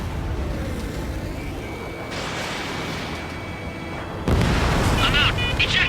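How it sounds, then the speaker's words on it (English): A missile strikes a fighter jet in the combat flight game Ace Combat 7, a sudden loud blast cutting in over steady jet and cockpit noise with a warning tone beforehand. "Missile hit."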